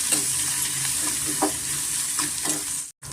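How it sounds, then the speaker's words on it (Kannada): Turmeric and asafoetida frying in oil with onions in a pan, a loud continuous sizzle with repeated spoon stirs and scrapes, cut off abruptly near the end. "ಸ್ವಲ್ಪ ಅರಿಶಿನ ಸ್ವಲ್ಪ ಇಂಗು ಸ್ವಲ್ಪ ಫ್ರೈ ಮಾಡ್ಕೊಳ್ಳೋಣ ನಾವು"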